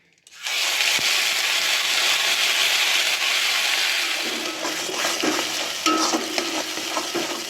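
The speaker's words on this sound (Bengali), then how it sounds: "হিংটা দিয়ে আমি একটু নাড়িয়ে দিচ্ছি।" Asafoetida hits hot oil in a pan with a sudden loud, hissing sizzle that holds steady, then softens slightly as it is stirred, with occasional scraping taps, no talking.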